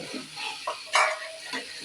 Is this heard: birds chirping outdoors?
no